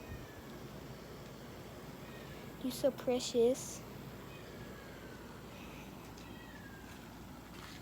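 A few short meows from cats and kittens rise briefly midway through, close by, over steady low room noise while someone speaks softly to them.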